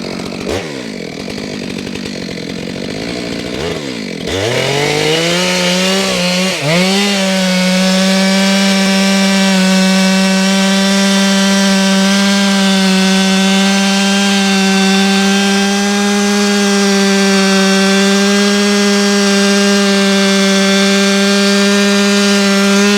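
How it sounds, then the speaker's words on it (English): A chainsaw cuts a branch of walnut firewood, the loud, close engine revving up and then holding a steady, sustained whine as the chain bites through the wood. "I think I'm gonna try to make a 16-inch piece of wood and cut this branch off here."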